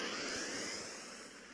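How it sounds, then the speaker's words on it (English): A spaceship's warp engine starts up in the Second Galaxy video game with a faint, steady, airy jet-like roar that slowly fades. "Starting warp engine."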